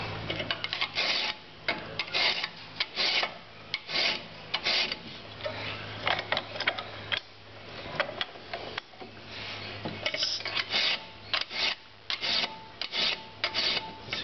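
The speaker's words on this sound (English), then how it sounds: "filing down to the marks that were left on this" A metal file rasps back and forth across the rounded shoulders of a nut, steady repeated close strokes with brief pauses between them and no talking.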